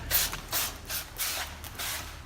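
Cleaner sprayed onto a plastic surface in short bursts, about five hissing squirts in quick succession, fairly close and alone without talk.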